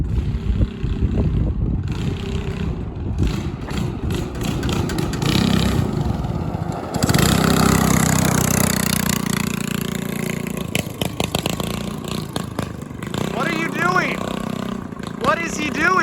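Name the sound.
go kart engine accelerating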